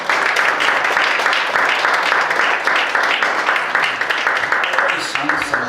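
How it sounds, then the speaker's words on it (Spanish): In a church service, a congregation applauds with dense, lively clapping that pulses in loose waves, steady and close throughout, with faint voices mixed into the clatter. "Dale un aplauso al Señor."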